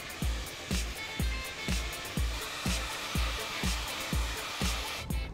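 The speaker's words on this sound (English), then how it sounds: "Then you're just going to blow dry it with your brush." A hair dryer blows steadily and loudly while hair is brushed through after mousse is worked in, the airflow pulsing in a regular rhythm about every half second as the brush passes, with no talking.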